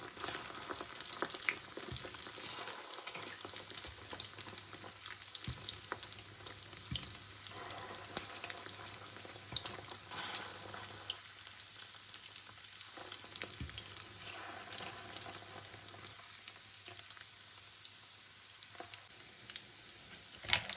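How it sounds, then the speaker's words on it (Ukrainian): Semolina cakes (manniky) frying in a pan on their second side, a steady close sizzle with crackling spatters and a soft low hum beneath, continuous throughout with no talking. "переворачуємо і піджарюємо з другої сторони"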